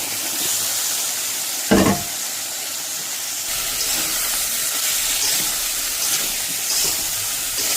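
Eggplant and potatoes fry in a spice masala for a koi fish curry, giving a steady, close sizzle and hiss throughout, with a brief clatter near the two-second mark.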